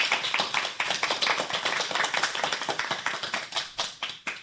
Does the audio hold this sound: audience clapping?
yes